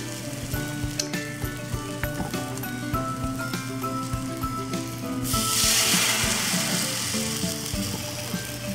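Slices of whole wheat bread dunked in egg fry in a pan over medium-low heat, giving a steady close sizzle with small ticking pops, swelling to a louder hiss partway through.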